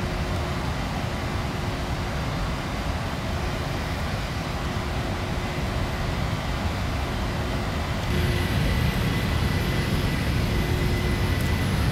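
A PMDG 737NGX airliner in the flight simulator taking off on runway 26 left at Gatwick, continuous loud jet engine roar with a thin tonal whine that rises and strengthens partway through.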